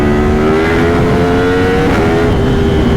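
A 2023 Yamaha MT-10 SP motorcycle engine revs hard on a road test ride, a steady, loud, droning growl with slowly rising pitch and no talking.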